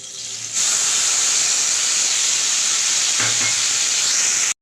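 A ground paste of dried red chilli and four or five cashews hits hot oil, bursting into a loud sustained hiss and sizzle after a brief quiet start, with a short clatter midway and no talk.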